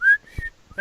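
A person whistles in short, thin bursts, one at the start and another at the end, close and fairly loud, with quiet breathy sounds between.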